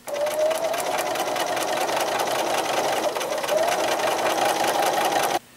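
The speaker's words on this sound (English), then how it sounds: "So now I will sew this piece on." Sewing machine stitching a pieced border onto a panel quilt, a steady fast whirring hum running close and unbroken for about five seconds before stopping abruptly.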